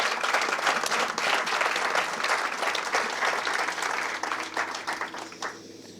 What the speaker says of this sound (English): So I would ask a round of applause for the Mill Creek Alliance staff and board members who are all